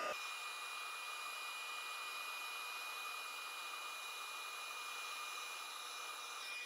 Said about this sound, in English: We're going to come in with the heat tool, and we're just going to watch this melt.